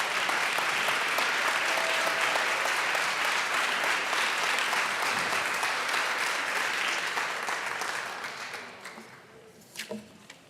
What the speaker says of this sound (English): if we could all just give her a round of applause